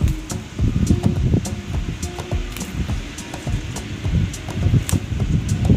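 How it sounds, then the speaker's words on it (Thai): Strong wind blows steadily across an outdoor chili and vegetable garden, a continuous broadband roar with gusty rustling and buffeting against the microphone, loud and close throughout. "อุ้ยลมหลาย"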